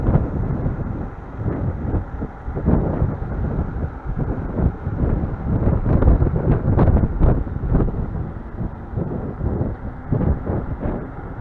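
Heavy wind buffeting the microphone while riding a dual-motor 2800W Ausom GoSoul 2 Pro, with a constant low rumble and gusting thumps, loud and steady throughout, no voices heard.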